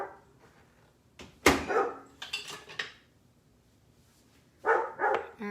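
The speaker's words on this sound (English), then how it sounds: "And now he's gonna bark." A pet dog indoors in a home kitchen gives a few sharp barks in short bursts, fairly close, with faint clatter of dishes and room noise between them and no speech over it.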